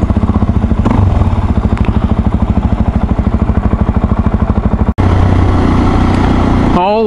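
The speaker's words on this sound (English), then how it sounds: "Following a tractor down Main Street." A tractor engine on a small-town main street chugs in a fast, steady pulsing rhythm, loud and close, with a brief break before it resumes, and a voice speaks over it.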